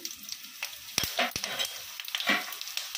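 Urad dal, coriander seeds and spices dry-roasting in a pan for podi karam, with light crackling sizzle and several sharp scraping and tapping stirs, no talk.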